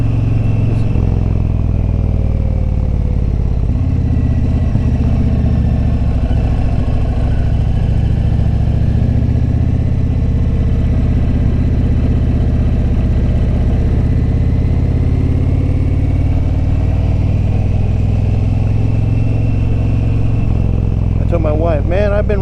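An Indian Challenger motorcycle engine rumbles loud and steady at idle, a continuous close low drone with mechanical clatter throughout, under wind and a rider's voice.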